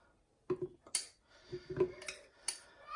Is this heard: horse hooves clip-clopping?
no